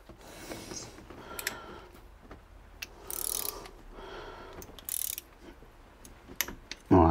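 Small 8 mm screws are tightened to 12 Nm on a Hemi engine during a tappet replacement, with quiet ratcheting clicks, soft metallic tool handling and a few brief, brighter metal clinks, all close and fairly faint.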